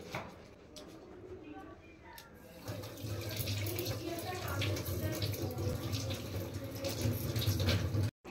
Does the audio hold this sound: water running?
yes